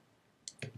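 Computer mouse clicked on an icon in eBook conversion software: two small, quiet, close clicks in quick succession against faint background hiss.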